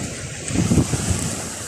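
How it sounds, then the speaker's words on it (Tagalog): Strong sea waves on a windy shore roar as a loud continuous surge, with heavy wind rumble on the microphone and a brief swell in the middle. "Ang lakas po ng alon ng dagat oh."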